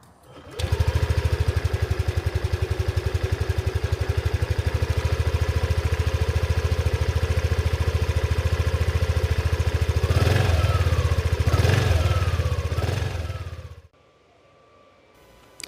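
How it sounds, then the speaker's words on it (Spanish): A 2024 Yamaha Xmax 125 scooter's exhaust drones steadily at close range for about thirteen seconds with a low, even rumble, rising briefly as it is revved, then cutting off. "Escuchamos el sonido del escape en detalle."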